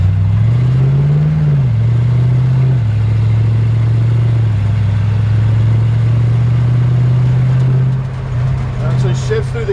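A 1932 Ford rat rod drives steadily with a loud, close engine drone whose pitch climbs, drops at a gear change, then holds level through further shifts. Nearby talk is faintly mixed in.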